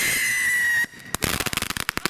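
A firework whistles with a rising shriek, then bursts into a rapid burst of sharp crackles and pops that scatter irregularly and fade.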